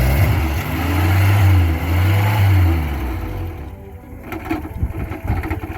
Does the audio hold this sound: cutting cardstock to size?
no